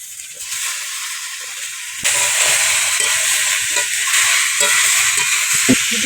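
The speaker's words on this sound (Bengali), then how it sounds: "এর উপরে মাছের তেলটাও দিয়ে দিচ্ছি। ভেজে দেবো।" Malabar spinach leaves frying in fish oil in a pan, a steady close hiss and sizzle that jumps louder partway through as the leaves go in, with faint stirring clicks underneath.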